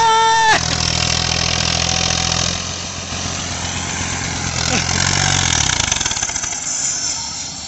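Tractor engine running, an Eicher 551 or Mahindra 265 with a fault, loud and close: a steady rough idle with a pitch drop early on and a rev change later, under ongoing rumble.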